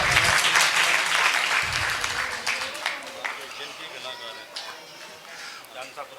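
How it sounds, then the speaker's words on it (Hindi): An audience applauds a nagada drummer at a Malwa folk festival performance, with dense, sustained clapping that thins out toward the end and a voice speaking over it. "इनके लिए भी जोरदार तालियां।"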